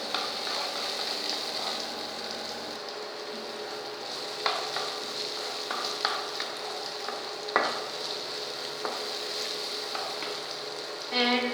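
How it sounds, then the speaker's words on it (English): Poha ingredients with tomato sauté in a pan under a steady sizzle, with occasional scrapes and clinks of stirring. "and saute for 2 minutes."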